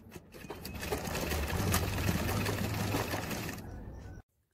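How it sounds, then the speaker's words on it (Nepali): A sewing machine runs continuously for about four seconds while stitching the ties of a kitchen apron, a steady close whirring hum that stops abruptly. "छेउहरू सिलाइसकेपछि अब यसको तुना सिलाउने।"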